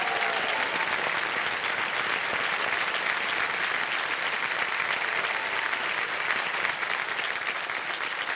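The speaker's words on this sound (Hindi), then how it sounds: "तालियां बज जाए जोरदार इनके लिए" Loud, sustained studio audience applause fills a televised quiz show set, a dense steady clapping that carries on evenly without pause and with no voices over it.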